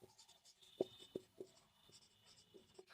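Marker or chalk writing on a classroom board, heard as a series of short, distinct scratchy strokes in an irregular rhythm, close and fairly quiet, with no voice over them.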